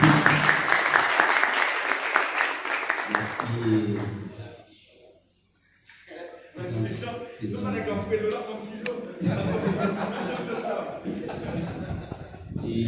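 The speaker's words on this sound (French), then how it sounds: "Sous vos applaudissements" Applause from the audience at a lycée honour-and-merit ceremony greets a speaker being introduced, a dense steady clatter that fades out briefly in the middle, then returns under a voice talking over it.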